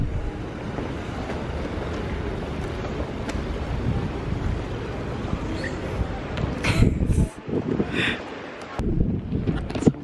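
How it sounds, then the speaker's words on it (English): Wind buffeting the microphone outdoors, a continuous low rumble with gusty surges and brief dropouts, loud and close, with faint talk underneath. "It's windy up in here."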